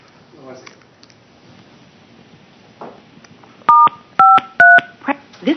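A telephone keypad dials a conference line: a quick run of distinct touch-tone beeps, clear and close. Soft murmurs and clicks come before it.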